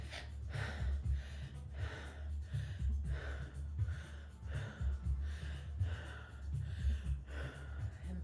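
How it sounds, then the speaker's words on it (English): Rapid, rhythmic breaths in and out through the mouth, about eight quick cycles, close and steady with no talking. "just breathing real fast in and out of your mouth"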